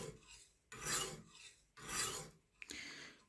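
Lansky guided sharpening stone rasping along a knife edge, two long even strokes a second apart, then a brief click and a third stroke, close and dry with no speech.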